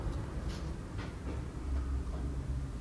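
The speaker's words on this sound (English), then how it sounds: "The little train goes through this section." A miniature toy train rolls through a Christmas shop display with a steady low rumble and faint clicking, mixed with busy street background noise.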